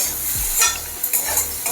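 Cauliflower curry being stirred and fried in a pan, a utensil scraping and stirring against the pan over a steady sizzle of frying, with no talking.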